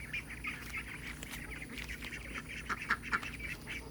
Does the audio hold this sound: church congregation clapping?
no